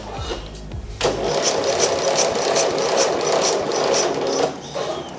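A car engine catches after a brief cranking whir and then runs at a steady, close, loud idle with a faint rhythmic ticking through it, no battery booster connected.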